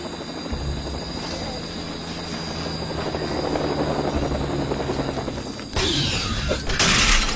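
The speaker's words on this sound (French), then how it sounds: "Il y a un autre hélico qui arrive!" A helicopter arriving in the LEGO Jurassic World video game: a steady, loud mechanical rotor drone with a rhythmic chop, building slightly, then broken by sharp bursts of noisy game effects near the end.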